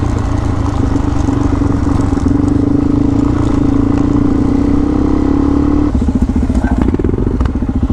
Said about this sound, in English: Do love the sound of that 650. Got that real sort of throaty thumper sound.